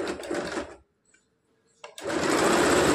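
A sewing machine runs in steady close bursts as it stitches a katori blouse, stopping briefly in near silence and then restarting louder.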